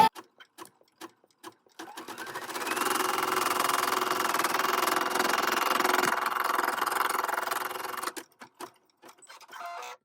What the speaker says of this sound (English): when I press go, it's going to place a very light coloured stitch to show exactly where I need to put